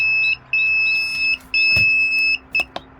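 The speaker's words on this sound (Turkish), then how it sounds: "Alarmı kapattık." A high electronic egg incubator alarm beeps in repeated long tones with short gaps, clear and steady, plus a couple of brief clicks, while chicks hatch.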